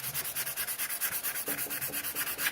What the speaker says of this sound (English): I'm just going to use the sanding sponge.